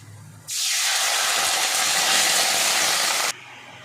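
Water hits a hot pan of fried raisins and erupts into a loud, steady sizzling hiss that lasts about three seconds, then cuts off abruptly.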